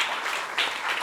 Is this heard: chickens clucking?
no